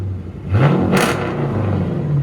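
A 2015 Dodge Charger R/T AWD with a 5.7L HEMI V8, Dynomax race bullet dual exhaust and mid-muffler deleted, revs up in a few deep swells and falls back, loud and close, with no talking.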